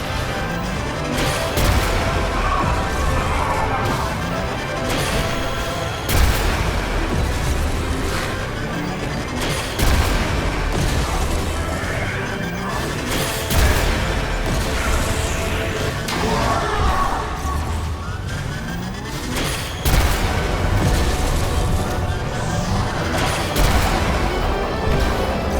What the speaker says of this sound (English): I guess we're doing super missiles